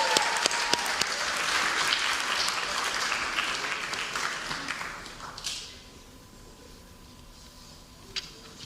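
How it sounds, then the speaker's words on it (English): Audience applause for a varsity cross-country team at a fall athletic banquet, steady clapping from a crowd that fades out after about five seconds, leaving a quiet room with a few scattered sounds. "So a round of applause for our varsity cross-country team."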